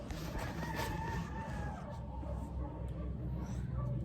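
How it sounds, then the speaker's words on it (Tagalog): Chickens crow and cluck in the distance over a constant noisy background hum, with faint voices mixed in. "And ang ingay talaga ng mga manok."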